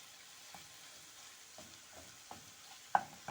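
Minced chicken fries in a pan with a faint sizzle, punctuated by soft, scattered scraping taps of a stirring utensil and one sharper knock near the end, heard quietly and close.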